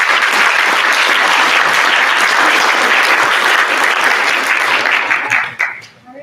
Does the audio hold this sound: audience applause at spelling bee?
yes